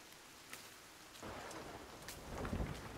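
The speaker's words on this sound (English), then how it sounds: "It's raining, it's pouring." Rain falls in the survival video game Sons of the Forest, a steady hiss that swells partway through, with faint low rumbles like distant thunder and no talking.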